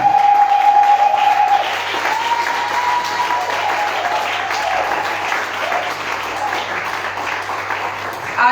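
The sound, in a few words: congregation applauding and cheering for the Lord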